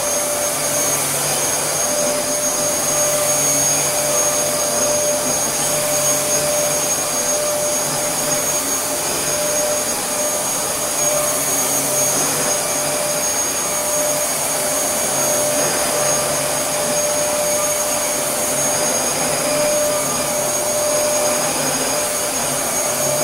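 A Dyson DC07 upright vacuum cleaner runs steadily, a loud constant whine with a high motor tone and airy rush, unbroken throughout with no talking.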